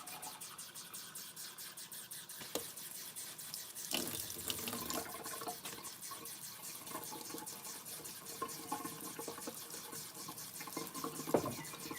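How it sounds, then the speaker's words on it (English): Hot water running from a kitchen tap into a sink, a steady close splashing stream with a few small clanks and knocks. "Let's run it under hot water."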